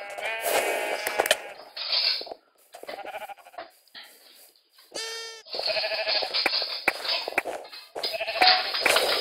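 Sheep bleating in a Minecraft minigame, several short wavering bleats separated by pauses, loud and close, mixed with other game sound effects.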